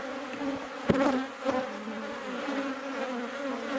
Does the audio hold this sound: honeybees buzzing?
yes